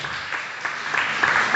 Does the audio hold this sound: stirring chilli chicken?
no